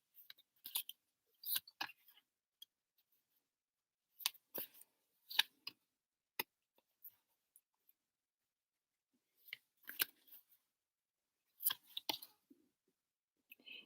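Playing cards being shuffled and pulled from a deck, sounding as clustered bursts of crisp rustling and snapping with quiet gaps between them, close and fairly soft.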